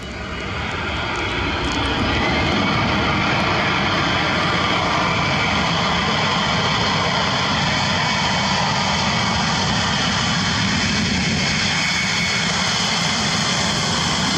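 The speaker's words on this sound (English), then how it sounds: "This Boeing employs reverse thrust on a wet runway, showcasing the incredible power of its engines." A Boeing airliner on a wet runway roars under reverse thrust, a loud, broad, sustained jet-engine rush that swells and holds steady for about fourteen seconds, with no voices.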